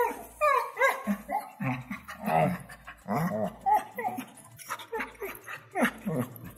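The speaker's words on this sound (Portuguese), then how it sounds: "o primeiro e único cão podcaster" A dog barks close by in a string of sharp barks mixed with growls and whimpers, spread unevenly across several seconds.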